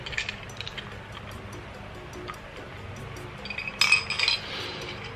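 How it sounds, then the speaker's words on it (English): Kitchen glassware clinks while a glass of water is fetched: light scattered taps and clinks over a quiet room, then a louder cluster of bright glass knocks near the end, with no talk. "let me go and get myself a glass of water and I'll be right back"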